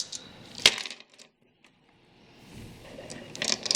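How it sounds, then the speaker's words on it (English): Ten dice tumble and clatter in a quick burst of hard clicks, then settle into near silence before faint rustling and handling noise return, all close and without talk. "So I'm gonna roll 10 dice."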